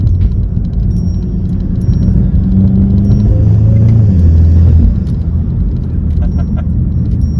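2020 Volkswagen Golf GTI turbo four-cylinder engine heard from inside the car, a loud low rumble that rises as the car accelerates, then drops back to a steadier drone.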